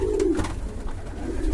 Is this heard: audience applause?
no